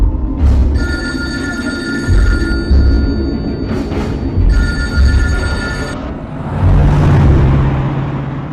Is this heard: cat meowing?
no